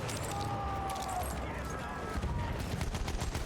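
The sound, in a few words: rifle gunfire in Battlefield 2042 video game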